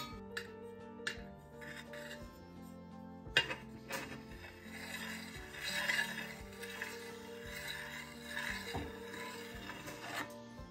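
A scraper smoothing frosting on a bunny-shaped cake, soft continuous rubbing and scraping with a few sharp clicks and taps, close and quiet.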